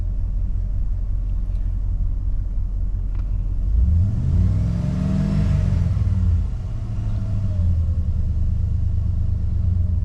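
A Jeep engine idles with a low rumble, then revs up to almost 2,000 RPM and drops back down, steady and fairly close, with no voices.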